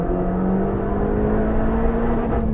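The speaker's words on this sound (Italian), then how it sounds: "la prima cosa che vi faccio sentire è il motore con compressore volumetrico" Supercharged engine of a Toyota Yaris GRMN revving on a drive through German forest, a steady, loud mechanical drone with a sustained rising tone and no turbo whoosh, running alone without talk.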